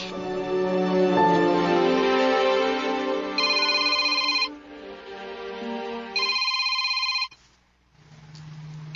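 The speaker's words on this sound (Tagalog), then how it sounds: "Oh, imong cellphone." Cellphone ringtone playing a repeating electronic melody, loud and close, in bursts over several seconds before cutting off, with no talking.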